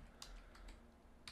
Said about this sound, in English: so that I type here